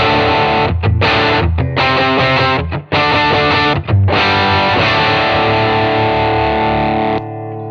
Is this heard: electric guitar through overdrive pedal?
yes